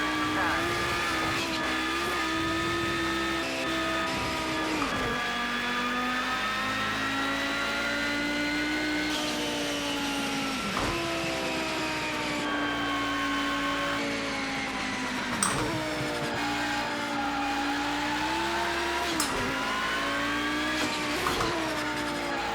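Audi Quattro IMSA GTO race car in Project Cars 2 lapping the Nordschleife: a loud, continuous engine drone rising through the gears with repeated sharp shifts and lifts, tyre noise at times, with someone talking over it.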